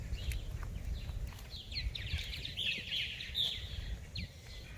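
Purple martins chirp around a birdhouse outdoors, with quick faint twittering calls repeating over a low, steady rumble of background noise, fairly distant and soft.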